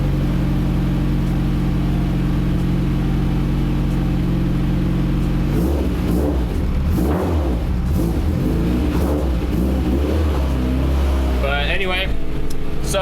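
A circle track race car's engine idles with a steady low rumble, then revs up in several bursts of rising and falling roar, heard close up, with a person talking briefly in the background.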